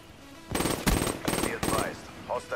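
Video game gunfire in Call of Duty Black Ops III: four rapid, close bursts of automatic fire in quick succession, loud and sharp.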